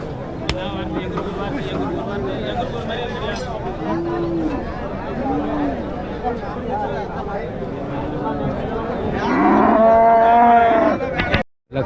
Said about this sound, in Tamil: நல்ல பெரிய மாடு ஒன்று எடுத்துகிட்டு வந்திருக்காங்க பாருங்கள்